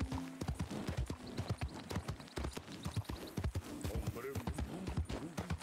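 Horse hooves clip-clop steadily in the video game Red Dead Redemption 2, a brisk continuous rhythm of close hoofbeats, with someone talking over them.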